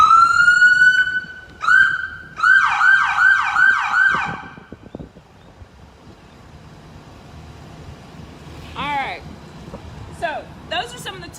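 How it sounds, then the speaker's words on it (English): A loud Bryan Police Department car siren wails up close in rapid repeating yelps, then stops, followed by quieter short siren chirps near the end. "That's one of the sirens."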